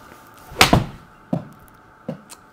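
An indoor golf simulator with a Foresight GC3 launch monitor catches a 3/4 pitching wedge shot: one sharp, close thump from the strike and impact, then two fainter, shorter knocks spaced evenly after it.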